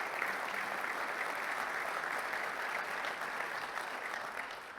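Steady, moderately distant audience applause at a congress closing session, honoring the organisers, a continuous dense wash of clapping with no talk over it.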